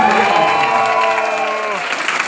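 A seminar audience claps and hoots at a business networking talk, a loud, sustained wash of applause mixed with shouts and cheers.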